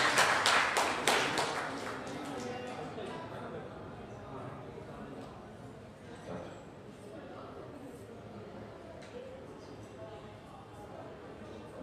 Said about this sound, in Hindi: उनके लिए एक ताली बजाइए